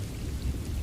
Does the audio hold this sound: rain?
yes